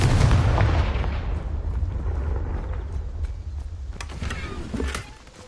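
A Confringo fire spell exploding in the Hogwarts Legacy video game: a loud booming blast at the start whose rumble decays over several seconds, followed by scattered fainter cracks and clatters.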